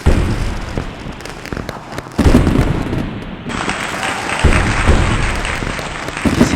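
Fireworks and firecrackers burst at a late-night wedding procession, loud rapid crackling pops and bangs in dense clusters, with a shrill whistling rocket rising midway, close and continuous throughout.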